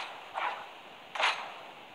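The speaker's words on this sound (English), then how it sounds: "Autocleave is horrible, and it sounds like this." Two short whooshing swings of the Autocleave pickaxe in Fortnite, each a bright, airy swipe with a brief gap between them, alone over faint background hiss.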